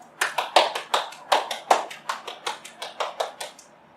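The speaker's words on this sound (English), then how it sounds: "give her a big round of applause" A round of applause from a small group during a children's yoga session: a short burst of crisp, fairly close hand claps with no talk.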